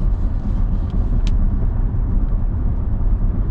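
A 2021 Nissan Armada SL Midnight Edition cruising at speed on an interstate, heard from inside as a loud, steady low road rumble and engine drone with no voices.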